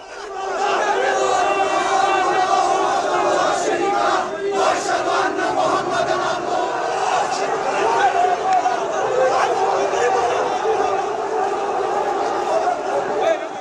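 A protest crowd clashing with security forces: dense, continuous shouting and chanting from many voices, loud and sustained throughout with no clear breaks.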